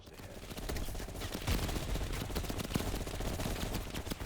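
Sustained gunfire in the video game Black Ops Cold War during a defense against a VC attack, dense overlapping automatic fire and heavy bursts rolling continuously throughout.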